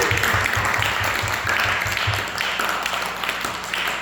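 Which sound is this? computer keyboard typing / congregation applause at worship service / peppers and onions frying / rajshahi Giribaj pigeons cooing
congregation applause at worship service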